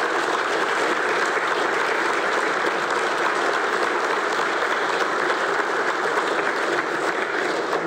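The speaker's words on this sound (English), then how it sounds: "one last round of applause for our new police chief" Sustained applause from a large crowd at a police chief's swearing-in ceremony, steady and loud for several seconds with no pause.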